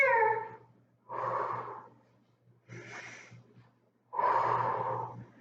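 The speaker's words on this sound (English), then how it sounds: "Inhale, exhale all that air out." During an ab workout, a person takes deep, forceful breaths, four separate audible inhales and exhales spaced about a second apart over a faint steady hum.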